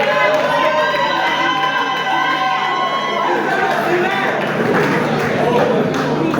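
Sustained crowd noise with cheering and chatter fills an awards ceremony hall as a couple is celebrated, steady and loud throughout, with tonal music-like lines running underneath.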